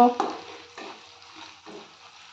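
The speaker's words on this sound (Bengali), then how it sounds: "গ্যাসের ফ্লেম আমি মিডিয়াম টু হাইতে রেখেই সমস্ত মশলাগুলো ভালো করে কষে নেব।" Spice paste for chicken kosha frying over a medium-high gas flame while being stirred, a soft sizzle broken by three or four scraping stirs, close and fairly quiet with no talk.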